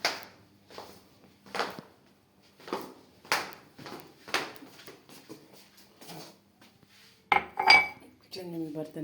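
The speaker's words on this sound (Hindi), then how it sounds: "किचन में बर्तन पड़े हैं," Dishes, pots and cutlery clatter in a home kitchen, a steady run of sharp clinks and knocks every second or so at moderate loudness, with a brief brighter clink of metal near the end.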